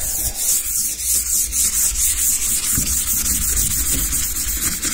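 Rhythmic hand sanding on a primed car body panel during a restoration, continuous close scratchy strokes with a regular back-and-forth pulse and no voices.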